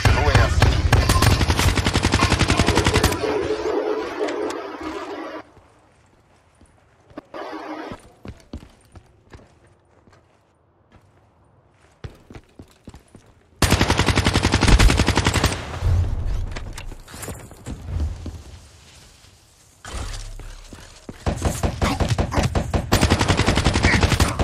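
Dense bursts of rapid automatic gunfire crackle loudly in the video game Black Ops III, broken by quieter stretches with scattered single shots, then heavy firing resumes.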